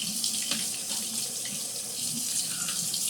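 A kitchen tap runs steadily into a sink as corned beef is rinsed under it, a continuous close splashing hiss with slight changes as the water hits the meat, and nobody speaking.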